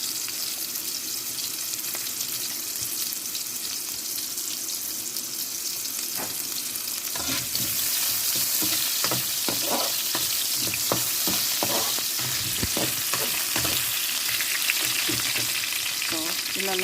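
Bay leaves, star anise and whole peppercorns fry in a pan for a Chinese-style chicken feet stew: a steady close sizzle that grows louder midway, with scraping stir clicks scattered throughout.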